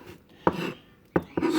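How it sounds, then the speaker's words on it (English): A kitchen knife chops finely through a shallot in a few quiet, separated cuts, each a short crisp tap on the board followed by a brief scraping rasp. "it does handle quite nice for the fine chopping of a shallot"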